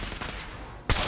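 A burst of gunfire from a weapon in the game Live. Die. Be Pete., a short loud volley near the end after quieter background sound, with no talking.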